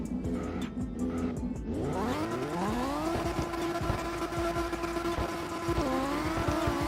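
A Mazda RX-7 rotary drift car at a drift series competition, its engine rising in pitch and holding a steady high wail with tire squeal, heard from a distance across the track.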